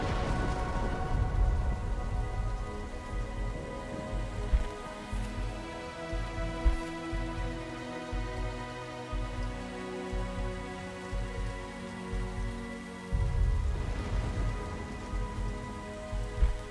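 Steady rain falls on the Maasai Mara savanna in Kenya, a dense continuous hiss with low rumbling underneath, holding even and fairly loud throughout with no voices.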